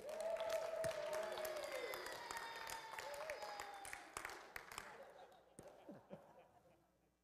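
A church congregation cheers and applauds at a Sunday service, a dense wash of clapping and whoops that starts loud, then thins and fades over several seconds, with a voice calling out over it.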